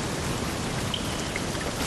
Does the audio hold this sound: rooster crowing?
no